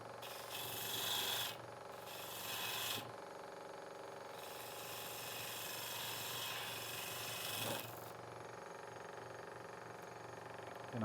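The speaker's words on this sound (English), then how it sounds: "got a spindle gouge around here somewhere. I just want to take some, material off." Spindle gouge shaving wood from a decorative spire spinning on a lathe: a continuous rough scraping hiss with pulsing bursts as the tool cuts, fairly quiet, with no speech.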